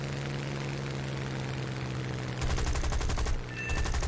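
Aircraft machine guns fire in War Thunder as an I-153 attacks a Mark 1 Hurricane, a rapid rattling burst breaking over a steady droning engine, loud and close.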